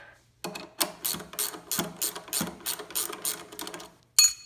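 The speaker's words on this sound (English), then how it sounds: "So take our 17 mil, unscrew this guy." A ratchet with a 17 mm socket clicks in quick, close bursts as it unscrews the rear shock bolt on a mountain bike, the rhythmic pawl clatter repeating steadily with short pauses.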